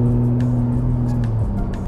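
A Ford F-150 Raptor's engine rumbles in a steady, deep idle that holds loud and close, with a slight shift in pitch just before the end.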